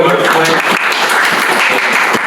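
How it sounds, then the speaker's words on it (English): Dense, loud applause from a crowd, steady clapping filling the whole moment. "big round of applause"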